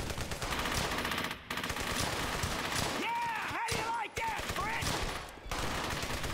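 Machine gun fire from the video game Brothers in Arms: Hell's Highway, with dense gunfire bursts filling most of the span, broken by short gaps, as a voice talks over the shooting.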